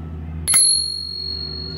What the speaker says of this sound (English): you do even have a little bell.